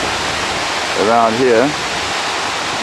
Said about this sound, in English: Here's one of the weirs on the River Don.